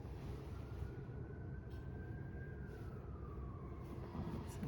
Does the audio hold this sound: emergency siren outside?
yes